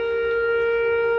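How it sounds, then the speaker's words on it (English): An air raid siren wails in a park in Kyiv, Ukraine, a loud, steady tone holding at one pitch throughout, with no voices. "air alarm siren"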